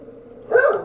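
A person imitates a dog barking, a short low vocal note swelling into one loud, close, gruff bark-like shout near the end.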